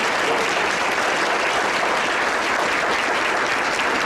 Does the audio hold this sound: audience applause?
yes